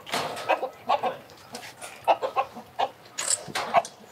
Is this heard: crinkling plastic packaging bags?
no